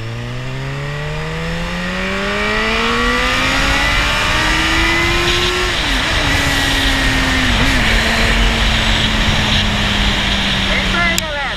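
A Honda CB1000R motorcycle fitted with a K&N air filter accelerates hard in second gear. Its engine note climbs steadily and loud at close range, then levels into a sustained high rev.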